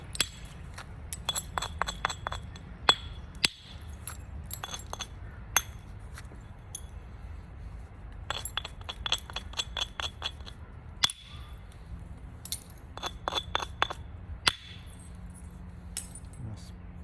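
Flint knapping on a Solutrean biface, thinning flakes struck off in sharp, bright ticks and clinks, some single and some in quick rapid runs, close and crisp with soft rustling between strikes and occasional talk.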